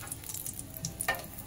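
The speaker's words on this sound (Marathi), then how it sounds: "तेल टाकून घेतले अगोदर, त्यानंतर तेजपत्ता" Bay leaf dropped into hot oil for a Malvani-style tempering for mackerel curry, giving a faint, close, crackling sizzle with a couple of small pops.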